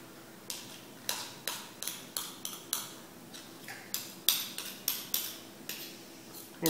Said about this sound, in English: you wind up getting in there with a spoon anyway and getting some of the dry ingredients away from the side of the bowl